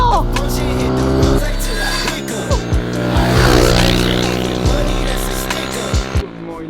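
A motocross bike revs hard and accelerates in a race against an electric bike, its loud engine note rising and shifting through gears, with excited shouting over it.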